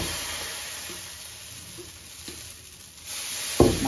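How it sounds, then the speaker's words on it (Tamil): Dosa batter hits a hot pan and gives a steady, close sizzling hiss that softens slightly midway, ending with a sharp utensil clank. "இப்போ நம்ம தோசையை ஊற்றிடலாம்."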